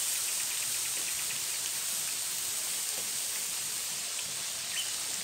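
Water pours steadily into a cooking pot while making chicken pilaf, a continuous close splashing hiss with no talk.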